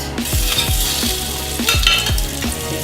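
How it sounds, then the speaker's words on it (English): A cod fillet sears in about a teaspoon and a half of oil in a pan, giving a steady loud sizzle with repeated scraping stirs and utensil strokes against the pan, no voices. "We're going to take the cod. What you want to do is sear it."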